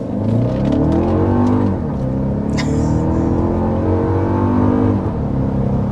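A 2025 Mazda CX-90 or 2025 Toyota Grand Highlander SUV engine accelerating hard, a loud steady drone that rises in pitch through a gear change, heard close from inside the cabin with no talking.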